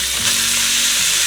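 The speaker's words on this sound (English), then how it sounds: "So I'm gonna go ahead and toss in the steak," Steak tossed into melted butter in a wok, giving a loud, close, steady sizzle that hisses continuously throughout, with no talking.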